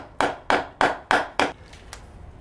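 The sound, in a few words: mallet tapping a seal into a gearbox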